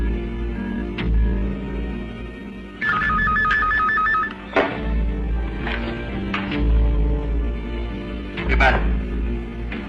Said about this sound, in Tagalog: Amy, sabihin mo kay Tiniente, telepono